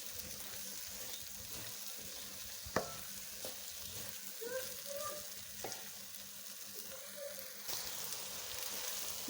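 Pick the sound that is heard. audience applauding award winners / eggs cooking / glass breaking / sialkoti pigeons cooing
eggs cooking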